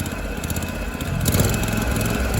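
A Scag lawn mower engine idles and then revs up as the throttle is opened, rising to a louder, steady drone partway through.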